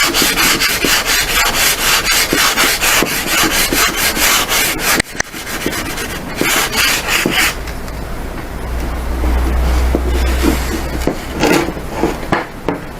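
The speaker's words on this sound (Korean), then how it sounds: "물 샌딩으로 해주면 얘가 더 곱게 갈립니다" Steady back-and-forth scraping of wet sandpaper rubbing a plastic car center fascia, close and continuous, with a brief pause midway before the rhythmic strokes resume.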